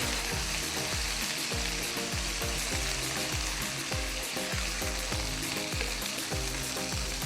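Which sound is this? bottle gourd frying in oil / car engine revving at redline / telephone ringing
bottle gourd frying in oil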